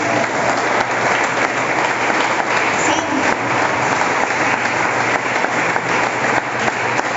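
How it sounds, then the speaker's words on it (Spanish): A congregation in church claps loudly and steadily for the Lord, a thick, sustained wash of applause that continues without pause from start to finish. "Démosle un aplauso fuerte al Señor"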